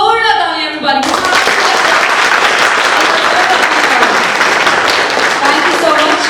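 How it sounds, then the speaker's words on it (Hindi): A large audience breaks into loud, sustained applause at a crypto event after a short stretch of a voice, the clapping dense and continuous throughout. "आप सभी के लिए एक और बार जोरदार तालियां everybody"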